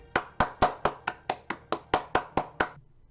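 Eleven crisp hand claps ring out at an even, steady pace, close and clear with brief quiet gaps between each, during a Minecraft Bedrock gaming session.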